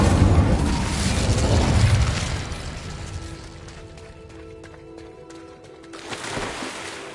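A fire spell cast in Hogwarts Legacy bursts out as a loud, booming whoosh that rumbles for a couple of seconds, then fades into quieter magical ambience before a smaller flare near the end.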